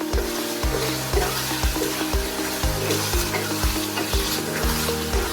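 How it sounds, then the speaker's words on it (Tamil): Potato curry sizzles in a pan as a utensil stirs it in a steady rhythm of scraping strokes, up close and without speech. "இதை கொஞ்சம் நல்லா கலரி விட்டுக்கலாம்"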